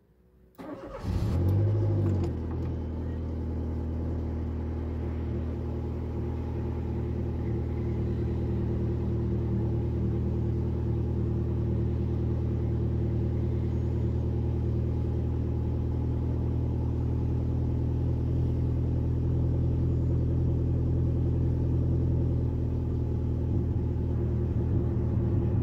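A 2001 Renault Scenic Sport with a 1.6 16v K4M engine and small turbo starts up, then settles into a steady, loud, low engine rumble while driving, continuing without break.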